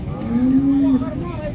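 A cow gives one clear, close, low moo lasting under a second against quiet outdoor background noise.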